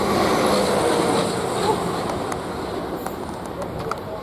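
A Class 444 passenger train arriving from Southampton Central at Queenstown Road station on the South West Main Line, a continuous close rumble and rush of wheels and air that eases slightly as it passes.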